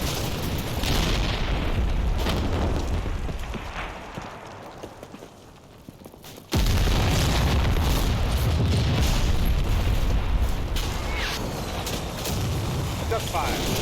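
Heavy weapons fire and explosions rumble continuously in a Combat Mission Black Sea battle, loud and dense, dropping briefly to a quieter lull before a sharp blast brings the booming barrage back.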